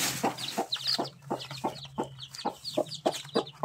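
Aseel chickens and chicks cluck in short, steady bursts about twice a second, close and clear, with thin high chick peeps scattered over a low constant hum.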